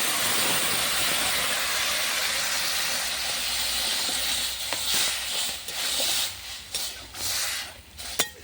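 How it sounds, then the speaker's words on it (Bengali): Water splashed into a hot pan of frying ginger, garlic, mustard and cumin paste bursts into a loud, broad hiss that slowly dies down, followed by a few scattered clinks and stirring scrapes close by. "ওটা বেশি ভাজবো না, তার জন্য দেবো পানি"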